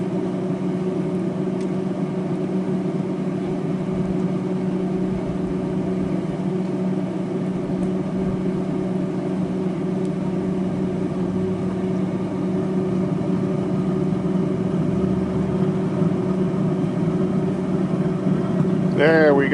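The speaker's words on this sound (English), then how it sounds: "We got the old blower going now." The blower fan on a Z Grill ZPG-4502B pellet grill, restarted after sitting unused for over a year, hums steadily and continuously at close range with a low tonal drone.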